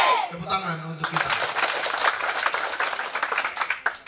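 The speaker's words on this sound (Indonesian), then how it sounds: "Tepuk tangan untuk kita." An audience claps and applauds at a school performance of a traditional Pakpak wedding celebration, a dense burst of many hands breaking out after a short spoken line and sustained for a few seconds before trailing off.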